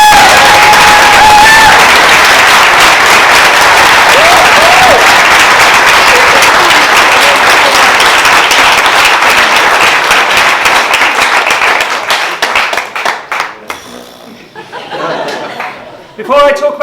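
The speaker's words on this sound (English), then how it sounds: "Please clap." Wedding guests clap and cheer during the reception speeches, a dense, loud burst of applause with some laughter that carries for about twelve seconds before thinning out into scattered claps.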